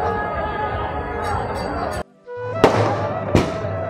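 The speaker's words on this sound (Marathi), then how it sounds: "सर्वत्र फटाक्यांची ही आतषबाजी आपल्याला पाहायला मिळते" Firecrackers burst loudly at a temple chariot festival: a steady crackling roar with sharp, louder bangs near the end, set against crowd noise.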